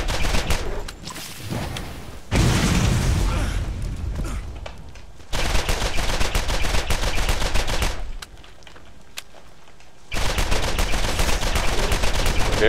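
The Clipper weapon fires in Borderlands in several loud bursts of rapid gunfire, each a few seconds long, separated by quieter gaps of game ambience.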